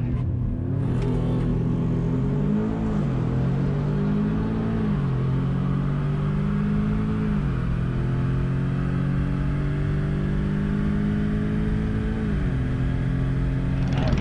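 A race car makes a 12.57-second drag strip pass during Rocky Mountain Race Week, its engine roaring loud and sustained with several gear changes as the pitch climbs, dips and climbs again over the run.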